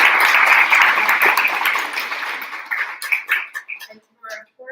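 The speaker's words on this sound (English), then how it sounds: "round of applause for you guys for showing up all of you" Families and guests at a graduation ceremony applaud in a broad, dense wash of clapping that thins into scattered claps and fades out near the end.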